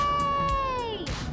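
A cat gives a single clear, drawn-out meow, loud and close, sliding gently downward in pitch before a brief breathy tail.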